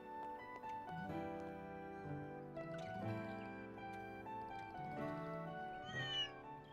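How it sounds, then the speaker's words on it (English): A small cat meows in the video game Trails in the Sky, soft and faint under steady background game music, with no one talking. "Oh, there's a kitty cat on the table"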